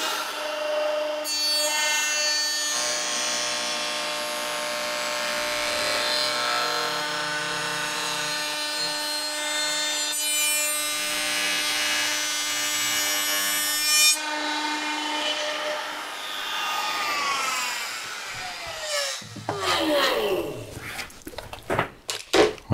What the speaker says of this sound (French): au moment où je vais passer ma fraise, je vais vraiment enlever sur le trait